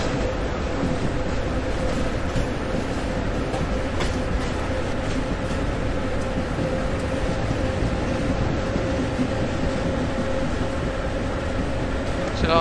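The 16328 Guruvayur–Madurai Express departs Punkunnam in the game Train Simulator MSTS, producing a loud, steady rolling rumble with faint clicks that runs unbroken throughout.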